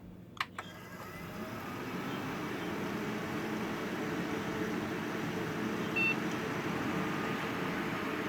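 A 2006-2007 desktop PC with freshly installed Crucial Ballistix memory gives a short, sharp startup beep, then its fans whir up into a loud, steady rushing hum that holds to the end.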